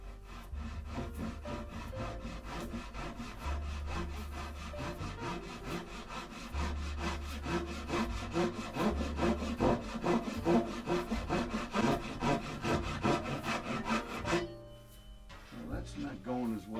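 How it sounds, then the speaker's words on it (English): A pull saw cuts through wood in quick, rhythmic rasping strokes, close and fairly loud, pausing briefly near the end before a few final strokes. "Looks like a pull saw challenge, doesn't it? All right, let's give that a whirl."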